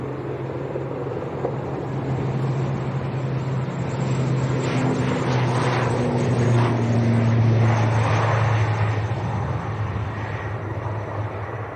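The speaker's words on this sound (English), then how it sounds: "Aer Lingus to Belfast, ATR 72," An Aer Lingus ATR 72 turboprop airliner bound for Belfast flies past near Leeds Bradford Airport, a loud steady propeller drone with a humming tone that swells and fades slowly.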